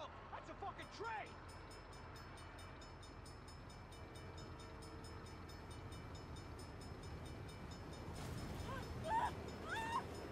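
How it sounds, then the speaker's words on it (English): A train rumbles past in the video game Saints Row, a steady low roar filling the scene with a horn-like tone near the end, while voices shout over it early on. "That's a fucking train!"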